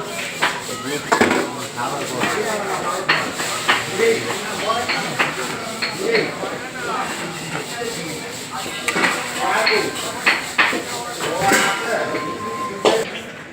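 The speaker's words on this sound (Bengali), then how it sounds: "চাউলগুলো এখন একটু নাড়াচাড়া করে নেব" A spoon scrapes and knocks against a pot while rice is stirred for egg biryani, making irregular clinks and scraping taps close by, with speech mixed in over the stirring.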